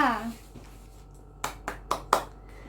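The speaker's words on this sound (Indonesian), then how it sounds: "Tepuk tangan untuk Fahmita." A short burst of scattered hand claps in a classroom, a few sharp claps in quick succession over a quiet room background.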